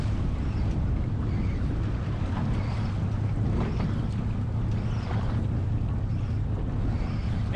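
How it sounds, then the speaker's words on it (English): Fishing boat idling forward in gear while bonito fishing at sea, a steady low engine rumble under continuous wind and water noise, with no voices. "Now the trick here, guys, is to keep the boat in gear, just idling forward."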